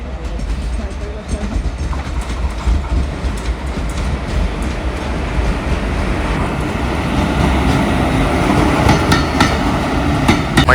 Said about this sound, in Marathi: इकडनं कुठची तरी एक ट्रेन इली